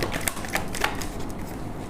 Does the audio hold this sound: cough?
no